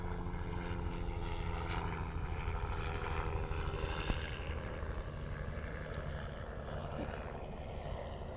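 A helicopter drones steadily overhead at an air display at RNAS Culdrose, a constant low rotor rumble mixed with wind noise for the whole stretch, with no talking.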